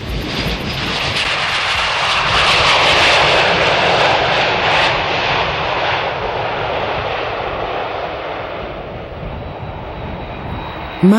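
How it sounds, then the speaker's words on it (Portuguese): A passenger airplane's engines roar steadily for about eleven seconds, a loud broadband drone that swells early and then slowly fades, with no voices over it. "Mais um dia, outro avião repleto de passageiros."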